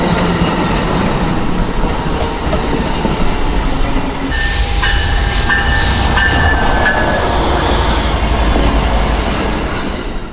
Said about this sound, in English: an Amtrak California F59 PHI on an Amtrak Wolverine service train